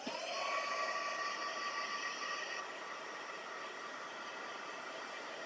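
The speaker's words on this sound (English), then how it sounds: "I should probably just give it a quick dry." A hair dryer blows steadily to dry watercolour paint on a background stamping project, a loud continuous whooshing hiss that drops to a slightly quieter, even drone midway through with no talking.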